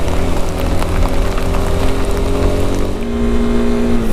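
Dense, steady rain hammers down while riding a road in Ecuador, a loud continuous hiss of drops layered over rumbling engine and road noise, with no talking.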